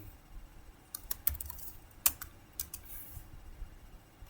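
Switch configuration commands typed on a computer keyboard, an irregular run of light key clicks with a few sharper taps, close and quiet.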